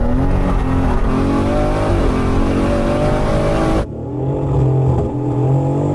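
Two cars, a BMW M3 Competition and a Toyota Supra MK4, launch side by side in a drag race, engines roaring loud and continuous at full throttle, dropping briefly on a gear shift before pulling hard again.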